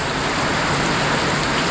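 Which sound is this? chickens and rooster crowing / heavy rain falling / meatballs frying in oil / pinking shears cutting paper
heavy rain falling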